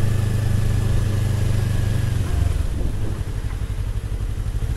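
A 2022 Yamaha MT-03 motorcycle on its stock exhaust idles nearby with a loud, steady, throbbing drone, then the note drops and turns into a choppier, pulsing burble for the last couple of seconds.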